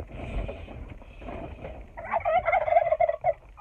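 A turkey gobbles loudly in a rapid, warbling burst near the end, over a background of low rumbling noise.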